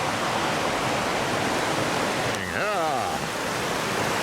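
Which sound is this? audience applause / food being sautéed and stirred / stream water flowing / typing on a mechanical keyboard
stream water flowing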